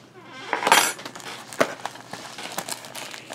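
Metal clinking and rustling as a sharp knife is unpacked and handled during a fountain pen mail call, a bright clatter of metal near the start, then a single sharp clink and a few lighter taps.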